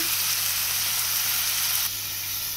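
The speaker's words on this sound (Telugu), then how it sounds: "దుంపలు ఉల్లిపాయలు కలిపి ఒకేసారి వేస్తాము. వేడుతున్నాయి" Potatoes and onions frying together in a hot pan for a potato and goruchikudu (cluster bean) lentil curry, giving a loud, steady, close sizzle throughout that eases slightly near the end, with no talking.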